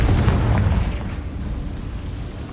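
An explosive Confringo fire spell bursts in Hogwarts Legacy, a loud deep boom at the start that rolls into a rumbling low decay lasting a couple of seconds, with no voices.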